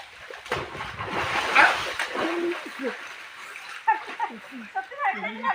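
A man is washed and dunked in a pond on a winter morning, with water splashing and sloshing around him while a voice urges him on and other voices talk throughout.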